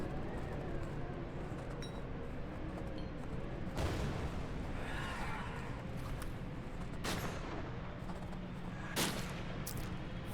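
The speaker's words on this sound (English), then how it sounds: "Alright, grenade time." A grenade goes off in the action RPG Grim Dawn, a few sharp booming blasts punching through a dense, constant wash of battle noise and rumble.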